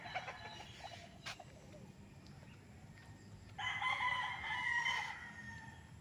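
Gamecocks at a farm training area, a rooster crowing once clearly in the latter half over faint outdoor background, with a fainter distant call near the start.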